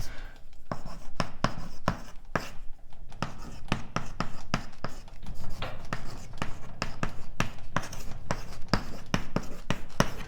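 Chalk or marker writing on a board during a cosmology lecture, a series of quick scratchy strokes and taps in irregular rhythm, close and fairly quiet, with no talking over them.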